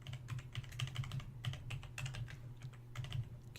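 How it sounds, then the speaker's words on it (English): Steady, fast typing on a computer keyboard while coding an Atari 2600 game, a dense run of close key clicks over a constant low electrical hum. "I type one and the other"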